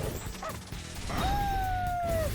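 Howling attack from the video game Persona 3 Reload: a long, sustained, slightly falling howl tone rings out loudly over busy battle effects and music.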